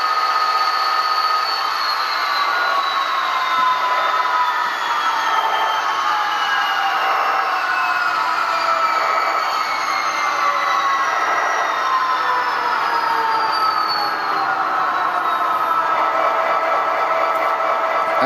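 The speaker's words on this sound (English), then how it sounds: "it's really hard to hear over the prime mover" Athearn Genesis SDF40-2 model locomotive's sound-equipped prime mover drones steadily and loudly, a continuous diesel engine rumble with gliding tonal whines that slowly shift pitch, with no pauses and no talking.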